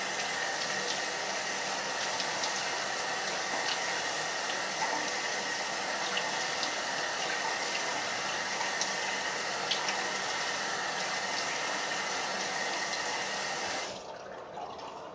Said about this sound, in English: Alright, gonna rinse the alum off here.